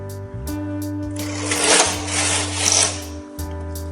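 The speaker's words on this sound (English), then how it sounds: "Move the carriage to knit 1 row." A Silver Reed SK280 knitting machine carriage slides across to knit a single row, giving a close whooshing, rasping sweep over a steady low mechanical hum.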